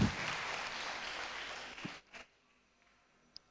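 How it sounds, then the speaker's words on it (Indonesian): An audience of civil servants in a university hall claps in support, with steady applause tapering off within two seconds and leaving a near-silent room with a few faint knocks. "Kita tepuk tangan dulu untuk memberikan support."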